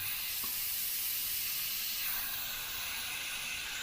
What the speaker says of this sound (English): you're just basically keeping your finger down on the trigger for air